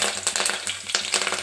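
Tempering of chana dal, urad dal, mustard seeds, cumin and fenugreek with curry leaves crackling in hot oil, a lively close sizzle with rapid popping bursts and spatters, no voices.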